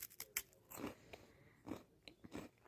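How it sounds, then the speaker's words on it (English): Quiet, close-up bites and crunchy chewing of food, several separate crisp crunches spaced irregularly, with no talking over them. "You guys can hear my chewing."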